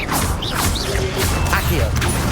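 A Levioso levitation spell cast in Hogwarts Legacy: a short burst of swishing, whooshing magical effects with sparkly rising tones over a dense game-noise bed, lasting a couple of seconds.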